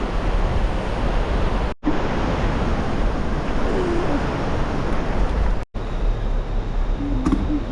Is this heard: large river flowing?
yes